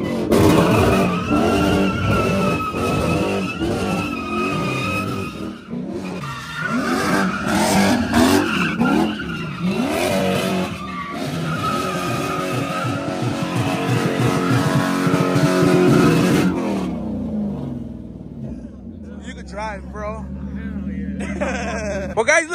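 A truck doing donuts at a birthday bash, its tires skidding and squealing in long wavering bursts with engine roar, loud and close, under near-constant talk and shouting, before fading to quieter idling and chatter.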